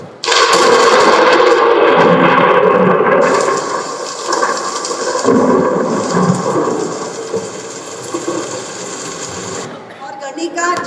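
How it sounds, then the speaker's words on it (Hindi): Thunderstorm sound effect with rain: a loud, dense wash of pouring rain and rumbling thunder fills the whole clip, easing slightly toward the end. "तो अचानक आंधी तूफान आ गया।"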